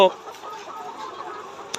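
Laying hens cluck in a dense, steady murmur inside a crowded layer farm shed, with a brief sharper sound near the end.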